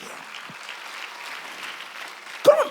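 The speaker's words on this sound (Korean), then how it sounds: "믿으면 박수 치라" A church congregation applauds at a worship service, a soft, even patter of many hands heard from a distance that keeps up steadily for a few seconds and ends with a louder thump.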